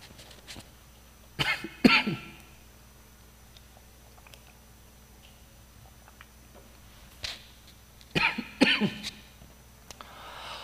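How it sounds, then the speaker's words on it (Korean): A dry cough from a preacher during a Wednesday sermon, heard as two short separated clusters of harsh coughs near the microphone, with a quiet pause between them and no talking. "마른 기침이 나올 것 같아서."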